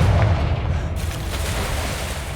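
A Confringo fire spell from the game Hogwarts Legacy bursts with one loud, booming explosion at the start, then fades into a sustained low rumble and crackle.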